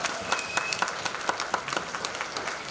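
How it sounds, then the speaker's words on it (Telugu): Scattered applause from an audience at a cultural celebration event, individual claps standing out in an uneven, moderately faint patter. "ఇప్పుడు మీ అందరి ఒకసారి గట్టిగా చప్పట్లు కొడితే"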